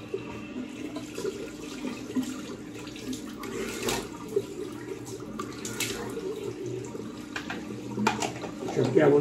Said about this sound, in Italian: sciacquiamo un dito con acqua fredda.